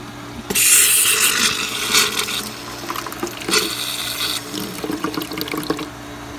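Water surges and rushes as a pool filter system is flushed, loud close gushing that swells and eases in waves over a steady background hum.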